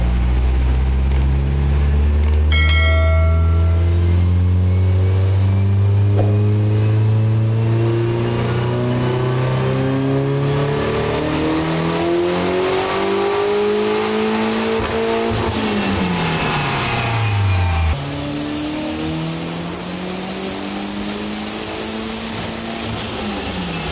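A turbocharged Volvo S40 fitted with a Holset HX40 turbo revs hard on a dyno, the engine note climbing steadily through a long loud pull, then dropping off with turbo whine before a second rev.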